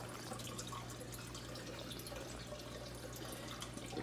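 Water trickles and splashes steadily from the drain of a DIY NFT hydroponic herb garden, a continuous close waterfall-like patter over a low steady hum.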